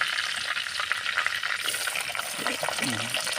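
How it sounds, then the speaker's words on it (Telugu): Curry leaves, cumin seeds and green chillies sizzling in hot oil for Nellore fish curry, a continuous bright crackling fry with light stirring throughout. "ఇలా వేడెక్కిన నూనెలో కలివేపాకు అండ్ జీలకర్ర పచ్చిమిర్చి"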